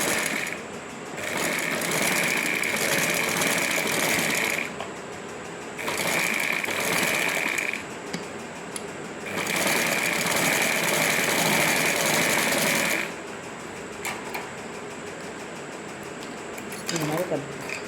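A sewing machine stitches the back neck of a blouse, running in three long steady bursts with quieter pauses between them.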